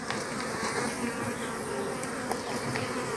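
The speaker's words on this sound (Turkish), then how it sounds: "Eşek arılar da artık saldırıya başladı." Hornets buzz continuously nearby, a dense droning hum with individual insects passing close.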